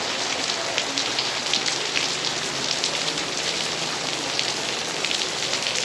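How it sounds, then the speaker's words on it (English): Heavy rain pours at Gyeongbokgung Palace, a loud, dense, steady hiss of drops striking surfaces all around, with no talk over it. "It's raining quite heavily now."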